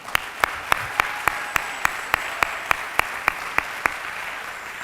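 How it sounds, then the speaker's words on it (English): A graduating class at a graduate reception claps in unison, about a dozen sharp, evenly spaced claps ringing out over a steady room murmur. "So I think we deserve an applause."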